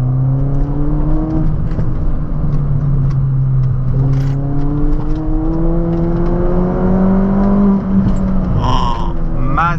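A 2003 Peugeot car drives through a run of curves, its engine note rising and falling in repeated loud revving sweeps as it accelerates, with steady road and wind noise and someone talking briefly.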